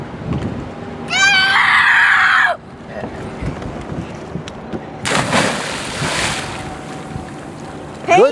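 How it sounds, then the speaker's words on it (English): Cannonball jump off a pier into lake water in October, with a loud broadband splash that bursts in about midway and then fades, following a brief high scream-like shout, over steady wind and lapping water. "Good splash."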